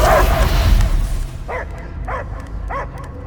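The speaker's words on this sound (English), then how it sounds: "I hear only barking." Dog barking from the video game Guardians of the Galaxy, heard as four short, distinct yelping barks evenly spaced through the second half, following a louder mixed game sound at the start.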